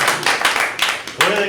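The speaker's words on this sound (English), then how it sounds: "All right, big round of applause for that." Audience applause rings out in bursts after a talk at an Ignite session, with voices mixing into the clapping throughout.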